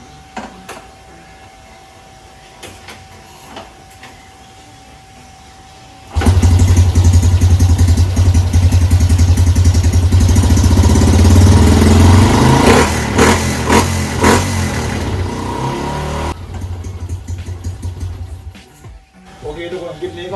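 A Honda Wave 110i motorcycle fitted with an upgraded 5.5 bar fuel pump starts up and revs loudly at close range for about ten seconds, then settles and cuts off, with faint talk around it.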